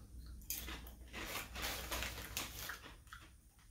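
Someone bites and chews Carolina Kettle Bee Sting Honey Sriracha kettle-cooked potato chips, giving a run of close, crisp crunches in quick irregular bursts at low volume.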